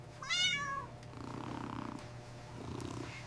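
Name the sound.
kittens meowing and purring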